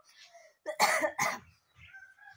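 Two harsh, close coughs come in quick succession from a person who is sick, loud bursts framed by brief quieter throat sounds before and after.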